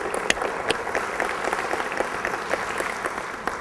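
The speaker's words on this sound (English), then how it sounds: "Give her a round of applause." An audience applauds a veteran, a dense burst of clapping from a crowd, steady and moderately loud for a few seconds.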